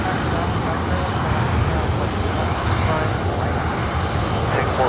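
A jet airliner takes off from runway 24 right at LAX with a loud, steady engine roar that holds for the whole stretch. Radio chatter from air traffic control can be heard under the noise.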